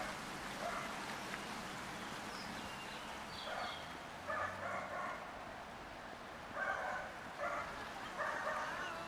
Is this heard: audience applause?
no